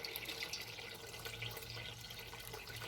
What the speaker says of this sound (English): So I rinsed these lentils really, really good, about 4-5 times. Now we're gonna add some filtered water in here.